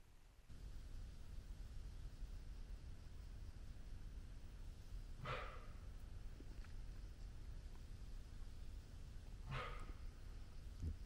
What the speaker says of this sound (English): That is the sound of a barking deer.